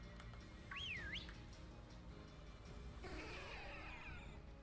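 A trainer's whistle in the Pokemon Sword and Shield Isle of Armor game rings out as a rising and falling tone, followed by a following Pokemon's chirpy cry, over steady game music.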